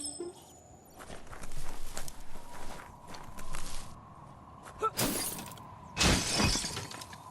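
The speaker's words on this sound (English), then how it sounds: "You shouldn't worry about smashing up the box." A wooden box is smashed in the Biomutant video game: two sharp, loud, splintering crashes arrive about a second apart, after shuffling footsteps and thuds.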